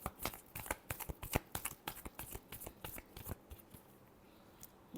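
Tarot cards are shuffled by hand in a run of sharp, close riffling bursts and taps, quick and uneven, easing off toward the end with no talk.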